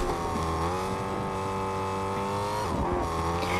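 A car in a video game drives along with a steady engine tone that shifts in pitch, dipping briefly near the end, loud and continuous with no talk over it.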